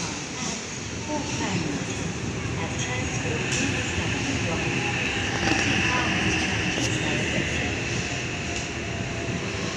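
Rumbling of a passenger train at Parramatta station platform, a continuous low roar with rattling and faint squeals, steady throughout with nearby voices mixed in.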